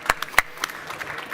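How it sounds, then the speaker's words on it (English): Small audience applause after a macro video lighting talk, a few sharp, fairly close claps followed by scattered quieter clapping for a second or so. "I think here's your applause, Evan."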